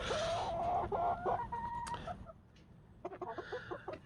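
Young backyard hens cluck and squawk close by inside their coop, with a few sharp calls and a burst of overlapping clucks over a steady background hum.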